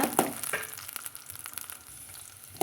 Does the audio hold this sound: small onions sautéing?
yes